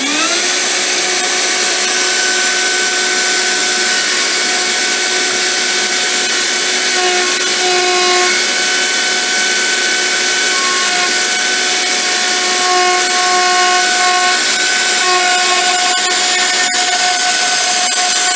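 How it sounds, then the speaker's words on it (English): A workshop dust collector in a custom guitar shop runs loud and steady throughout, a constant motor hum with a strong whine, alone with no talking. "we'll get the dust collector going and we'll start the process"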